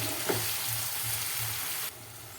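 Tomatoes go into a hot pan of drumstick curry and set off a bright, steady sizzle. A low stirring rumble runs beneath it, and the sizzle drops abruptly near the end.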